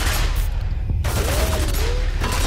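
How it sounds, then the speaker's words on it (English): Gunfire in a spooky night video game, bullets punching through barrels: a sustained rattling volley of shots, loud and continuous, briefly dropping out near the middle before resuming. "It's shooting through the barrels."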